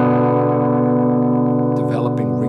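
A P90-equipped electric guitar plays through a cranked tube amp with echo, sustaining a thick, ringing distorted tone; a voice starts speaking over the fading note near the end.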